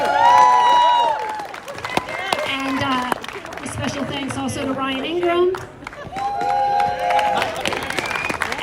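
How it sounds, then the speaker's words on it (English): Rally crowd applauding and cheering for organizers at an outdoor gathering, a broad wash of clapping rising under a man's amplified speech, with whoops and shouts scattered through. "another round of applause"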